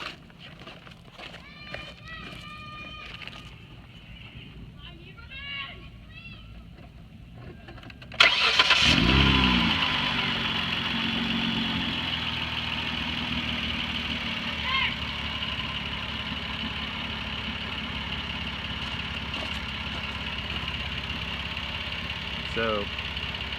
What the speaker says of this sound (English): Let me turn on the car just to test it.